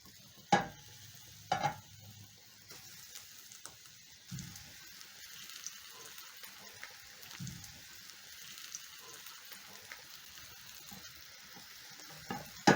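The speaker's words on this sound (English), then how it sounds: "I'm going to be picking my fish and placing the fish in the pan." Coated fish being laid into hot oil in a frying pan, a steady faint sizzle running throughout with a few sharp knocks and clatters near the start and at the end.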